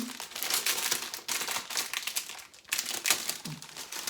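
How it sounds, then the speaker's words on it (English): Packaging crinkles continuously and fairly close as bag material is unwrapped from its plastic, a dense rustling with brief crackling bursts throughout. "Sorry for any crinkling."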